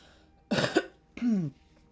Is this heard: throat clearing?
yes